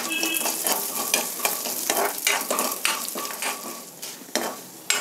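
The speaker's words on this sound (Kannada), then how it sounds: "ಕಡಲೆಬೇಳೆ ಒಂದಷ್ಟು ಫ್ರೈ ಆದಮೇಲೆ ಉದ್ದಿನಬೇಳೆ ಸೇರಿಸ್ತೀನಿ." Chana dal and urad dal fry in a pan, with a continuous crackling sizzle broken by repeated scraping strokes of a spatula as the lentils are stirred.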